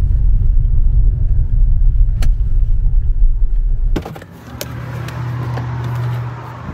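A car's engine rumbles steadily from inside as it drives to a parking spot, then the noise drops as it stops, leaving a quieter idle hum with small clicks.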